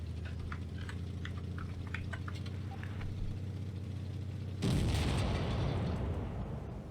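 A high-explosive tank shell fires and detonates in a World War II tank game featuring the Cromwell B, landing as one sudden loud boom with a rumbling roar that lingers and trails off after a stretch of quieter engine and battle noise.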